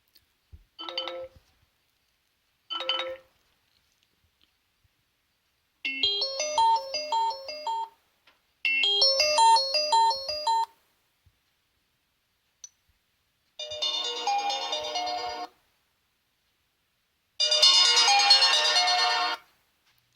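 Ringtone samples played through the single bottom speaker of a Sony Xperia M5 phone: a few short chime bursts, then longer melodic tone phrases separated by pauses, bright and somewhat thin.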